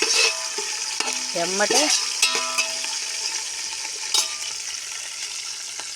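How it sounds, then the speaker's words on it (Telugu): Curry leaves and onions sizzle in hot tempering oil for sambar cooked over a wood-fired stove, with stirring clinks from a utensil near the start and a brief spoken word. "ఇదిగోండి కరివేపాకు వేస్తున్నాను. ఈ ఉల్లిపాయలు వేగేవరికి"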